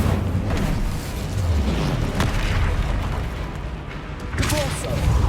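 Spell effects in Hogwarts Legacy, a fiery Incendio cast among bursts and booming impacts layered over a dense, loud combat soundscape, with spoken incantations mixed in.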